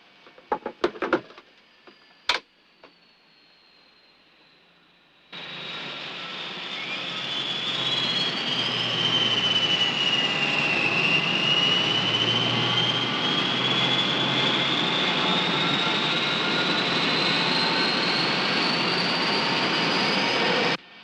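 Airliner jet engines spooling up for takeoff, a few clicks and a thump first, then a sudden loud roaring whine with a sweeping tone that builds and holds steady, close and alone.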